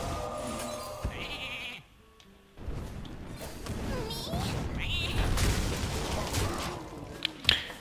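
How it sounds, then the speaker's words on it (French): Sheep bleat from a mage's polymorph spell in the Hearthstone card game, a nasal wavering baa among game effects, chimes and impacts, with a voice talking over part of it. "J'ai utilisé un mouton pour ça"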